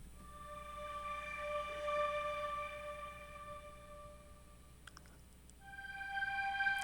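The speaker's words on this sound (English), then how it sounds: "The next thing you need is a slow sort of string sound," A slow synth string pad for a hip-hop beat remake holds long sustained tones that shift to a new chord near the end, playing softly alone with no talking.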